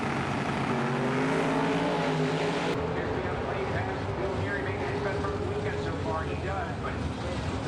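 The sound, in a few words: carbureted manual-transmission drag racing cars launching at NHRA Indy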